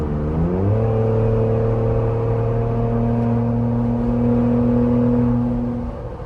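Engine note of a Jeep Rubicon 392 or Ford Bronco Raptor climbing under load while towing a trailer on the interstate, a loud steady droning hum that rises in pitch, then holds and fades slightly.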